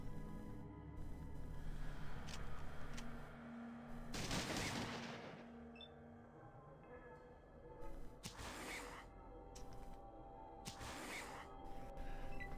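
Bursts of heavy gunfire from Marcus's gun in the video game Fallout 2, several loud crackling volleys separated by quieter gaps over a steady game background.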